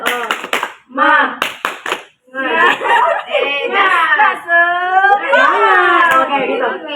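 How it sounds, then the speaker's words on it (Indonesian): Children perform a rhythmic spirit clap in a classroom group session, with sharp bursts of clapping mixed with loud, overlapping children's voices chanting and shouting throughout. "Tepuk semangat."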